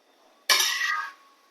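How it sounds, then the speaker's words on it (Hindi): Sweet shakarpare pieces gently stirred by hand with a utensil in a pan of hot frying oil, a single loud burst of metallic scraping and bubbling that lasts about half a second before fading to quiet. "थोड़ा सा हल्के हाथों से इनको हम इस तरह से हिला देंगे"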